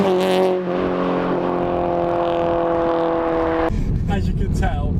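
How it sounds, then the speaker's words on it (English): A Honda Integra Type R DC2 VTEC engine holds a steady, droning rev with strong harmonic tones, then shifts to a rougher, louder rumble near the end; a voice may be faintly present. "we'll cut to an exhaust shot now"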